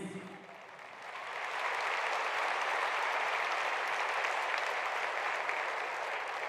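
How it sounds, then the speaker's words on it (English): An audience at a closing ceremony in Baku breaks into applause that swells within the first couple of seconds into a dense, even wash of clapping, held at moderate loudness from a distance. "A round of applause, please."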